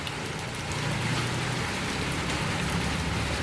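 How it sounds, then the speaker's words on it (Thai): Steady rain falls on surfaces outdoors near a home kitchen, a dense, even hiss of drops that stays constant throughout with no talking. "อาจจะมีเสียงฝนนิดหน่อยนะคะ"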